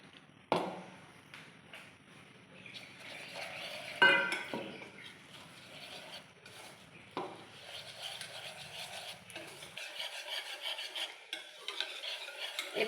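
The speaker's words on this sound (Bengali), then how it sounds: "এটাকে আমি গুলে নেব, এটা ঘোল বানিয়ে নেব।" A thin batter gets stirred and whisked in a bowl, giving faint, uneven scraping and swishing with occasional clinks of a utensil on the rim, quiet and close with no talk.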